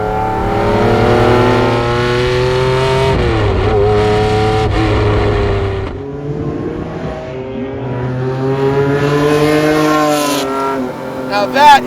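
A Lamborghini Diablo SVR race car on a warm-up lap in Miami heat, its loud engine droning and revving steadily from inside the cockpit, pitch rising and falling through gear changes.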